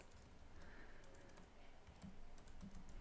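Keys clatter on a computer keyboard while someone types CSS media queries for a React Bootstrap landing page, a steady quiet patter of close keystrokes with no talking.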